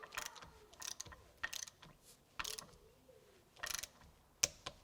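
A wrench ratchets on the driveshaft bolts of a 2015 Jeep Cherokee in a series of short, close clicking bursts with pauses between them.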